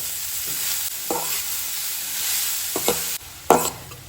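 Chopped cabbage frying in a pan with a steady close sizzle, broken by a few spoon stirs and scrapes against the metal.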